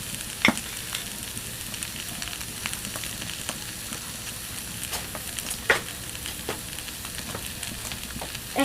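Chili, turmeric and coriander powder fry in a wok with a continuous hiss and sizzle, broken by frequent sharp scraping and clinking strokes of a stirring spoon.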